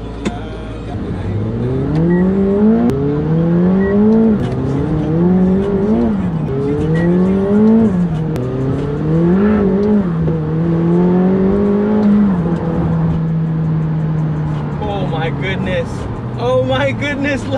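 Ferrari Testarossa pulling away and accelerating, engine note climbing through several gear changes, loud and close from inside the car, then settling to a steady cruise with some faint clatter near the end.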